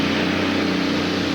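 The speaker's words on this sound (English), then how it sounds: "V12 turbocharged Allison aircraft engine" A loud, steady drone from a turbocharged V12 Allison aircraft engine in a pulling tractor, with a deep rumble and strong low harmonics, running continuously without letup.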